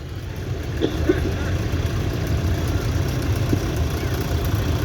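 A Field Marshal Series 1 diesel tractor runs at a steam rally, giving off a steady low idling rumble with faint knocks. Crowd voices murmur underneath.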